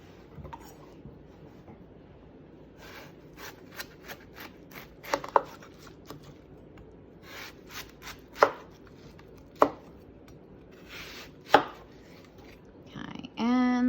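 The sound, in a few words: knife cutting watermelon into thick slices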